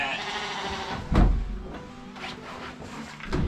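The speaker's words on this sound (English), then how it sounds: "She bleats at me from that east wing like a guy in a traffic jam" A Shetland sheep lamb bleats in a winter barn, with a few short nearby calls amid shuffling and a creaking door.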